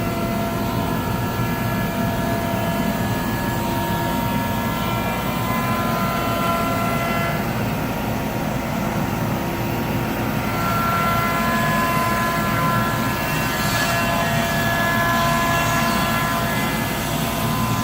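A large CNC router spinning at 10,000 RPM makes a finish up cut around the outside of a wood slab, giving a loud, steady mechanical whine and roar with layered tonal hums that holds for the whole stretch.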